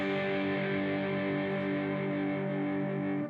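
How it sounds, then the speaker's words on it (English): A G5 open-position power chord strummed on distorted electric guitar across the bottom four strings, one loud strum left to ring out and sustain evenly before cutting off. "this chord is known as a G5 open position power chord"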